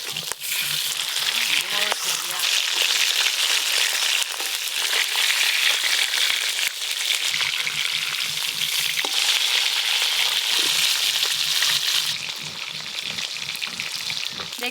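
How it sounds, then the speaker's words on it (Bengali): Fish fry in oil in a pan after being flipped to cook the other side, giving a steady, close, continuous sizzle with small crackles and the occasional scrape throughout. "মাছগুলো এবারে উল্টে অপর পিঠটাও ভালো করে ভেজে নেব।"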